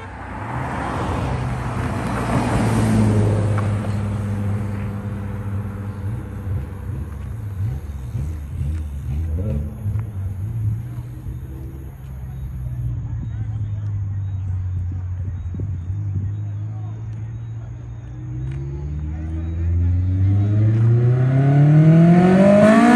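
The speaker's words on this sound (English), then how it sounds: "Porsche passing through." A Porsche 911 Turbo S passes at a drag race meet in Mobay, its engine droning loudly and swelling as it nears, then revving higher toward the end, with crowd voices underneath.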